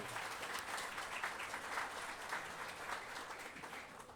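A baseball crowd in Kinston gives a sustained round of steady clapping, fairly quiet and distant, with a faint murmur of voices under the applause.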